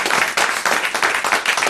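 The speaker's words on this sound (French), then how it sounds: "Allez, on les applaudit tous les deux." A studio audience on a French television talk show applauds steadily, a dense, continuous wash of many hands clapping at close range with no talk over it.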